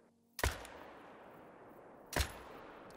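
Two sharp rifle shots in the hunting video game TheHunter: Call of the Wild crack out about two seconds apart, each with a short fading tail over quiet ambience.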